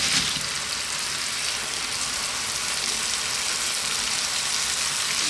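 Cabbage and potatoes with garlic fry in a pan, giving a steady, broad hiss that carries on evenly throughout with no talking.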